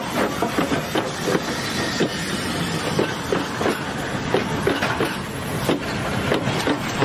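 Rare steam locomotive 20-2109 hauls the Victory train, giving a steady, loud rolling rumble with a rhythmic clickety-clack of wheels over rail joints throughout.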